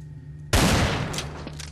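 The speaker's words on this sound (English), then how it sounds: "shoot the vent out. It's going to sound like this, of course." In Counter-Strike on the de_Nuke map, a sudden loud burst of rapid gunfire shoots out a vent after a brief quiet hum, ringing out in a dense, continuous volley.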